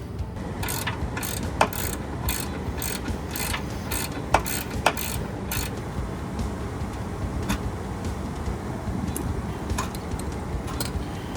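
Ratchet clicking while loosening the rear bumper bolts on a Jeep, fitted with a GoRhino Rockline Stubby rear bumper: rapid, steady rows of close metallic pawl ticks in repeated bursts, with a few sharper knocks, over a low background rumble.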